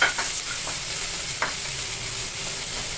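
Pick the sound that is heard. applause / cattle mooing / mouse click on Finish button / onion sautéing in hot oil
onion sautéing in hot oil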